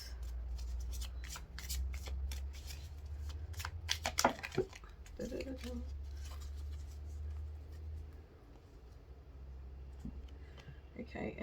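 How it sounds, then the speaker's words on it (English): Tarot cards are shuffled and drawn by hand, soft riffling and slapping bursts clustered near the middle over a steady low rumble, with a voice speaking quietly at times. "I'm going to keep pulling cards on this one."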